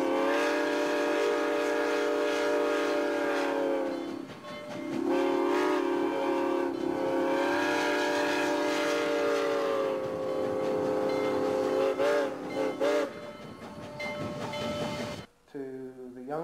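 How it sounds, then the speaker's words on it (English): A steam locomotive whistle, New Orleans & Gulf Coast No. 1744, is quilled in long, loud, wavering blasts that swell and bend in pitch, briefly dropping before resuming, then cutting off near the end. "each one of us, on our own ear, like to hear the whistle quilled a little bit differently."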